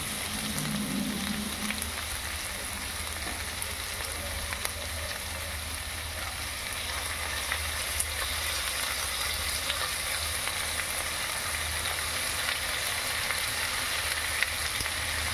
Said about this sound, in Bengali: তরকারিটা অন্যদিকে ভাজা হতে থাক।